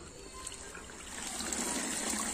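A silk saree is washed by hand in a bucket of water, giving a steady splashing and trickling that grows slightly louder, with no talking.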